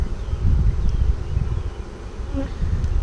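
A steady low buzzing of many bees fills the clip, close and continuous, with a little wind rumble underneath and no talking.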